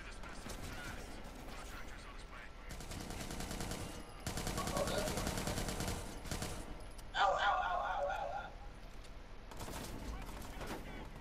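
Gunfire from a Watch Dogs 2 firefight, heard as loud sustained bursts of automatic shooting with clattering impacts, mixed with game effects and people talking over it.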